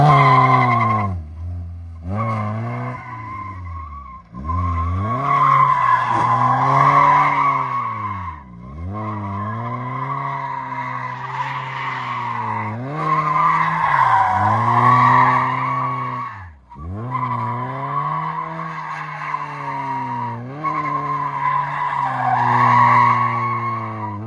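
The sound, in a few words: car with welded differential drifting, tires skidding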